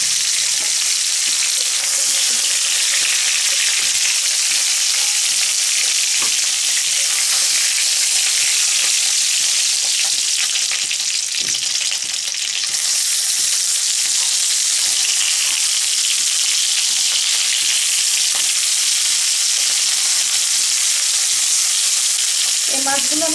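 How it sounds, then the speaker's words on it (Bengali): Golda prawns fry in hot oil, a loud, dense, continuous sizzle that holds steady throughout with faint crackles and pops underneath. "এইরকম করে ভেজে নিলাম মাছগুলো আমি"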